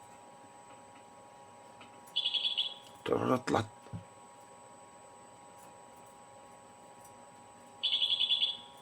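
A goldfinch gives two brief bursts of bright, rapid twittering, separated by a few seconds, with a short spoken word and a clatter between them.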